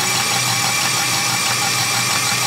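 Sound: car engine starting up and revving

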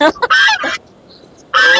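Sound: roosters at a weekly rooster market

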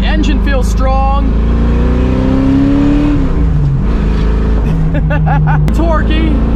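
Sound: C4 Corvette engine accelerating while driving

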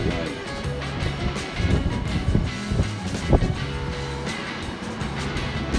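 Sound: strong wind gusts

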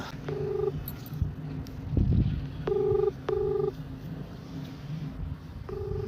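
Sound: telephone being dialed to make a call

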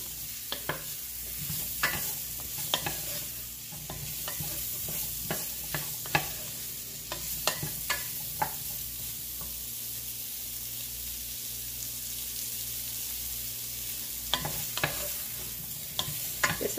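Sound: Irish fish chowder ingredients cooking and being stirred in pot

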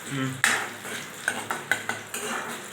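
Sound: stirring and roasting soya in a pan

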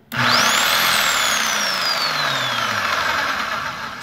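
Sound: Bauer SDS rotary hammer motor running in first speed

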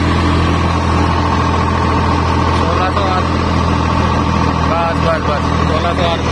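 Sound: Swaraj 855 tractor engine revving with rotavator

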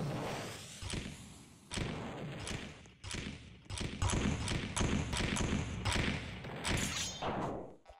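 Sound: bombs exploding in video game Roblox pirates

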